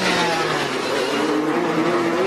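An IndyCar race car engine at Sonoma drones steadily at restrained pit lane speed, a continuous loud hum with a slowly rising pitch and no voices.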